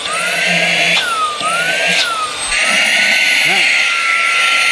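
A handheld 3-in-1 vacuum, blower and sucker whines loudly at its highest suction setting, a steady high-pitched motor roar that rises in pitch as it ramps up, with someone talking over it.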